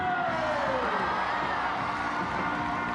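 A stadium crowd at a Netball World Cup match between Australia and South Africa in Sydney roars loudly and continuously, a dense wall of cheering and whooping with a whistle-like tone sliding down at the start.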